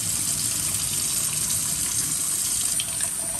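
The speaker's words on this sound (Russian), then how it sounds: "И каждый раз сливаем полностью воду" Water pouring out steadily from a glass sprouting jar through a sieve while rinsing sprouts, a continuous close splashing gush with no voices.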